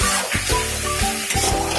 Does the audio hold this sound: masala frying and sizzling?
yes